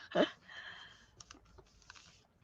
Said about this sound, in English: Julie's computer's typing for her.